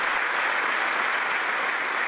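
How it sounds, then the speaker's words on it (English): Applause from a Congress audience during a speech by Netanyahu, a dense, even roar of many hands clapping at once, steady and full for the whole short stretch. "did I leave in some applause here?"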